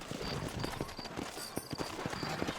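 Horse hooves clip-clop steadily on a dirt road in the Red Dead Redemption video game, a run of close, even beats over a busy game soundscape.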